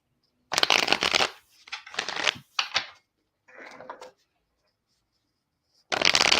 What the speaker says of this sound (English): let me pull some cards for you.